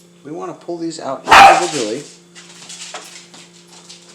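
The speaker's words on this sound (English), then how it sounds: "That was my dog again." A pet dog in a kitchen gives a sharp bark in the middle of a man's speech, close and loud, with the talking continuing around it over a faint background hum.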